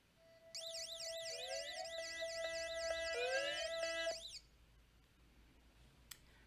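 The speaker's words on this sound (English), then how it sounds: "So you could hear the alarm going off" A loud electronic alarm wails in a rapid warbling pattern over steady tones for about four seconds, then cuts off, leaving faint background noise and a single click.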